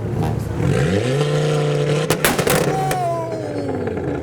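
Car engine revving at a busy evening car meet, a loud sustained rev with rising and falling pitch, sharp bursts near the middle, mixed with crowd noise and distant traffic.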